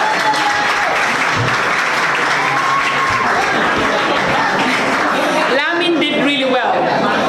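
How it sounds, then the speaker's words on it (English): Audience at an art exhibition day claps for the featured painter, dense close applause from a room of people with some chuckles and chatter mixed in. "Can you all clap for Lamin, please?"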